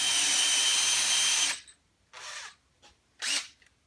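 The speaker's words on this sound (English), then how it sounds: "I'm using a 3/8 inch Forstner bit here to get a nice circular hole" A power drill spins a 3/8 inch Forstner bit into wood in one loud, close burst, followed by two shorter whirring pulses after a pause.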